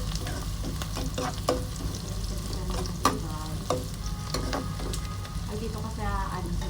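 Onion browning in a pan for ginataang tilapia, frying with a steady sizzle under periodic stirring scrapes and clinks of a utensil, close and fairly constant.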